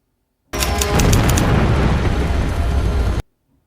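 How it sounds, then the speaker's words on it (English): An explosion from the film Dune erupts as a loud, dense roaring blast that holds for nearly three seconds, then cuts off abruptly into silence. "So something has exploded."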